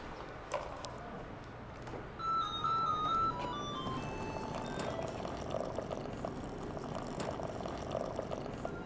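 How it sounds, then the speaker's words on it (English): Water is poured into a cup of instant seaweed soup from a Korean convenience store, giving a soft, steady liquid pour and trickle heard fairly close. A faint electronic chime plays early on. "Okay, I'm gonna put some water in."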